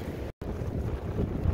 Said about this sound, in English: And the wind and rain had just caught up to us.